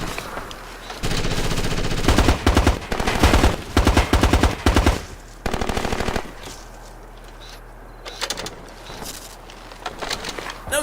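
Rapid automatic gunfire from the Xbox game Ghost Recon Advanced Warfighter crackles in several loud bursts, separated by short pauses and followed by sporadic single shots, with a low engine-like hum underneath.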